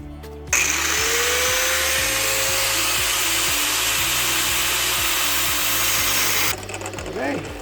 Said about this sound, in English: this one is a steel grinder